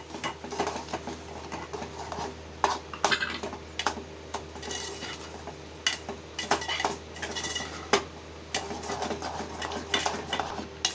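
Sugar being added and stirred into orange-coloured kesari in a pan, with repeated scraping and clinking of a metal spoon against the pan in an uneven rhythm over a low steady hum, close and fairly loud.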